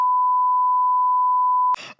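A censor beep: a single steady pure tone holds loud and unbroken for almost two seconds, then cuts off abruptly as a brief snippet of voice begins.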